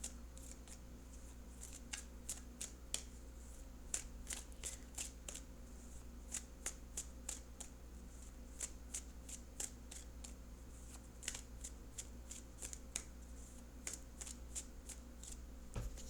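Tarot cards are shuffled close up, a quiet run of quick crisp riffling snaps coming in short uneven bursts over a low steady hum, with no talking.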